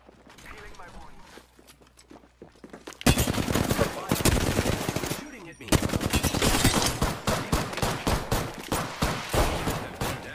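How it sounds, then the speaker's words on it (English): Rapid bursts of video game gunfire from two enemies firing at the player, with dense machine-gun rattle and repeated shots that grow loud and continuous after a quieter opening, and a voice talking over them. "There's two of them, and they're just bam, bam, bam, bam, just shooting me."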